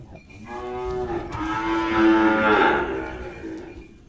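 A single long, loud moo from native cattle at a market in Tak, Thailand, rising and swelling over about three seconds and heard up close over faint background noise.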